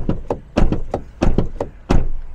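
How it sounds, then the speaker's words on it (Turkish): A Peugeot Rifter Allure 1.5 car door shut several times in a row, each a loud, close, solid thud with no talking. "Kapı seslerimiz bu şekilde."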